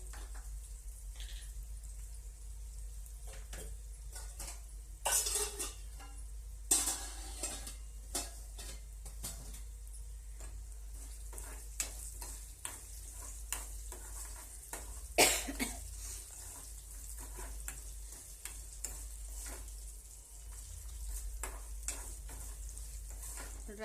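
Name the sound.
yellow rice frying and being stirred with lemon juice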